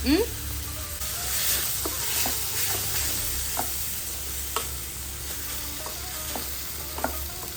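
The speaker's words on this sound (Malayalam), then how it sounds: "ചിക്കൻ ഇതിൽ കിടന്ന് വേവട്ടെ" Pieces of chicken, thinly cut and seasoned with lemon, sizzle and fry in a pan with a steady crackle, while occasional taps of a utensil against the pan ring out clearly.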